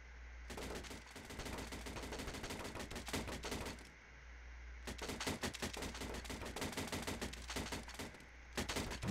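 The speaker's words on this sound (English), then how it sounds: "Ah, I see why they call it the concussion gun." A concussion gun firing in Garry's Mod, rapid crackling bursts of automatic shots in long volleys with a brief pause between them, loud and close.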